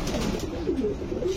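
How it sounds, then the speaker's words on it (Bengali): Fancy, giribaz and racer pigeons coo at a pigeon farm: a continuous soft, low, rolling murmur of several birds, with no talking. "দেখেন সবগুলোই কিন্তু মাদি কবুতর।"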